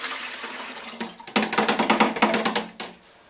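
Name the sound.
liquid being poured in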